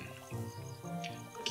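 Water splashes and trickles briefly onto crop plants in a farming and cooking game, a short wet pour with a few soft drips over background game music.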